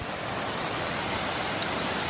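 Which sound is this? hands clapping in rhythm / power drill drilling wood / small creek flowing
small creek flowing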